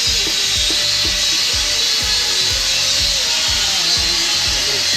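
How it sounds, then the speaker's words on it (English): A battery drill bites repeatedly into steel roll cage tubing for a Suzuki 4x4, its motor whining steadily while the bit chatters in short, regular pulses, close and loud. "I don't have an actual electric drill, so I'm only using my battery one"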